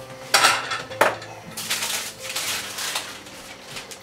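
Metal utensils clink and scrape against a pot or bowl as bacon and chilies go into a twice-baked potato filling: a few sharp close knocks, then a busy stretch of stirring and rattling, with no talk.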